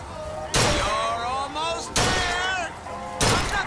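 Three sharp gunshots at a shooting gallery in BioShock Infinite, evenly spaced about a second and a half apart, each followed by ringing, warbling tones, with a voice talking between them.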